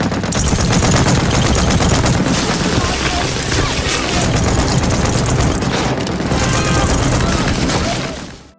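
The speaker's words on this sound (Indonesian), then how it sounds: "Dani dengan senjata mesinnya berhasil menghabisi tentara Jerman yang mendekati parit tersebut" Sustained, loud machine gun fire with dense rapid bursts, as German soldiers are cut down approaching a trench during a Soviet rifle division's wartime battle, continuing for the whole stretch before fading at the end.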